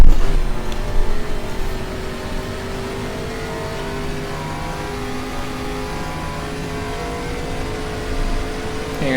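Race car at the 1974 1000km of Mexico City, engine droning steadily in a sustained tone after a louder opening burst, close and continuous with no talking.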